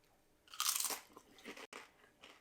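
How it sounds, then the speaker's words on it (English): A crunchy low-carb almond flour tortilla chip gets bitten, giving a loud, close crackling crunch that is followed by a few softer chewing crunches, with no talking. "I'm sure you could hear that there's a crunch to it"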